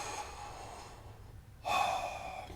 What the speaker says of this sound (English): take some deep breaths in